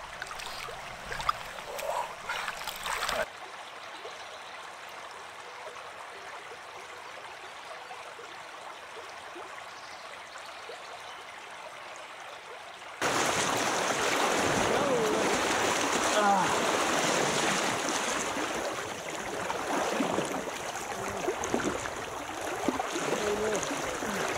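Swift creek water on the Buffalo River in Arkansas rushes steadily as a broad wash of sound, quieter through the middle stretch and then suddenly louder and fuller, continuous with no talk.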